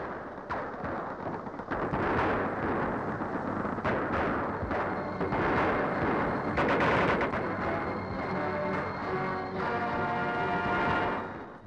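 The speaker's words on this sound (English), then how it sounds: "King Paul recently paid a visit to the area and saw a skillfully planned combined attack" Gunfire and artillery roar together in a combined military assault on fortified rebel positions near the Albanian frontier, with dense overlapping blasts and rattling bursts continuing loudly throughout, no voices.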